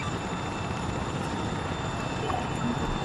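A Chinook helicopter in the video game Arma 3, its steady rotor and engine drone running evenly at moderate level for a few seconds, with no one speaking.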